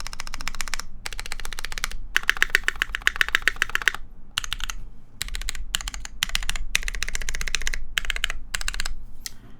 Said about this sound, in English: Has that chalky MX Black kind of sound.